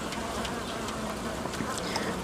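Honey bees at a hive during nucleus strengthening, a dense continuous buzz filling the scene, close and steady with faint wingbeat flickers throughout.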